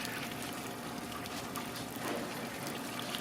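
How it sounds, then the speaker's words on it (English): Water pours steadily into a concrete biosand filter, a continuous broadband gushing and splashing that stays loud and even throughout with no talk over it. "So now we're starting to fill this."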